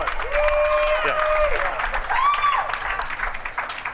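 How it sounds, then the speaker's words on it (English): An outdoor Hollywood Walk of Fame star unveiling crowd applauds steadily for the full stretch, with scattered whoops and cheers rising over the clapping. "Applaud here. Yeah. Applaud."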